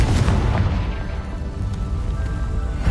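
A Confringo fire spell bursts with a heavy, rumbling boom in Hogwarts Legacy, followed by a broad crackling wash of debris noise that lingers for a few seconds.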